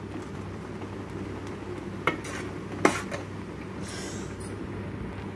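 Oreo payasam being stirred in a pot, a quiet steady background with a couple of soft clinks of a spoon against metal.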